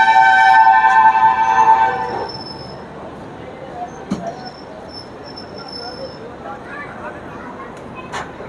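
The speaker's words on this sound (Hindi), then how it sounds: "अपनी ट्रेन का डिपार्चर हो रहा है प्रयागराज जंक्शन के प्लेटफॉर्म नंबर 4 से" A train pulling out of platform 4 at Prayagraj Junction: a loud horn blast for about two seconds, then a quieter low rumble with occasional clanks and squeals.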